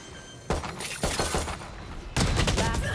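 Gunfire in the tactical shooter Valorant during a pro match, G2 versus PRX at VCT Masters Toronto 2025: sharp cracking bursts of shots at about half a second, one second and just past two seconds, over steady game ambience.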